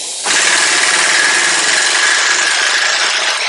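Pneumatic air wrench loosening the wheel on a John Deere 820 tractor, a loud continuous buzzing rattle that starts abruptly and holds steady for about three seconds, close to the microphone.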